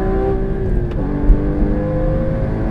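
A Porsche Cayman GT4 on a race track pulls hard in gear, its engine droning steadily with a rising then settling tone, heard loud and close from inside the cabin with no talking.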